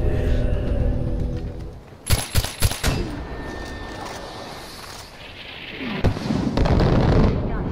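Grenade launcher shots and explosions in Far Cry 4 come as a quick cluster of loud sharp blasts midway, then a rumbling boom later, while people talk throughout.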